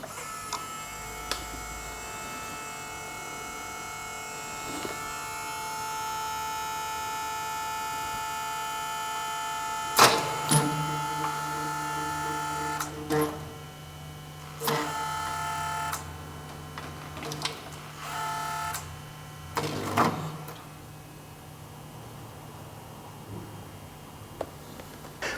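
A DSG gearbox runs its mechatronics calibration after a fuse and mechatronics replacement, giving quiet, intermittent whirring and clicking bursts over a low background hum.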